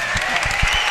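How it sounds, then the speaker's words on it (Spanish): A live audience at the El Larguero radio show bursting into brief applause, a dense patter of clapping heard up close for under a second. "El aplauso de toda la afición aquí esta noche."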